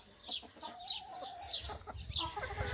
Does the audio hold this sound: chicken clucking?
yes